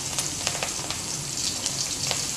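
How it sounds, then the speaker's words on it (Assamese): A dried chili and onions go into hot oil, giving a steady close frying hiss with small popping spatters scattered throughout, moderately loud and with no one talking. "এতিয়া শুকান জলকীয়া এটা দিম আৰু পিঁয়াজখিনি দি দিম"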